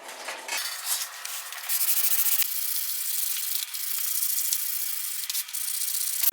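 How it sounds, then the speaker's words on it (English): Wood being hand-sanded with fine 400 to 800 grit sandpaper during an epoxy build: a close, steady, continuous rasping rub with no pauses and no talking. "you go to a finer and finer sandpaper"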